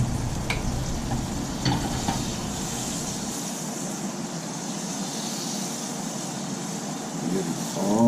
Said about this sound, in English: we're going to take some more butter, cook this steak, and we're going to put it right in there